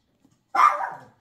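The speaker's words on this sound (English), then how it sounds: "I don't know what's going on with these dogs." A single dog barks once, a short close bark that trails off, with silence around it.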